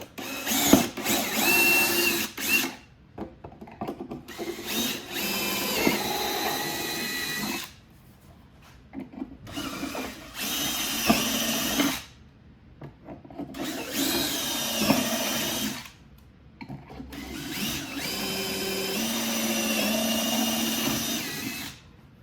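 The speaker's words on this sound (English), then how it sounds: "put that in your drill can go ahead and drill your pilot holes through these big mounting holes" Bursts of a power drill boring pilot holes through large bolt mounting holes during an audio kit install on a 2022+ BMW K1600, several runs of whirring separated by short pauses, close and loud.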